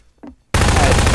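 Video game gun firing in a sudden loud burst of rapid shots after a brief moment of quiet, the blast sustained and dense to the end.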